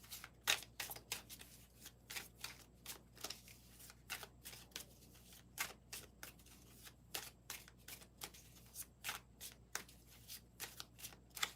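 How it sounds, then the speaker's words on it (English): A deck of cards is shuffled by hand, giving a long run of crisp, rapid riffling bursts up close in a quiet room, with no talk. "Let me shuffle all the cards first."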